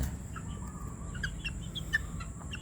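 Butcher Mt. Banahaw line chickens give soft, scattered clucks and short chirps close by over quiet background noise, with no one speaking.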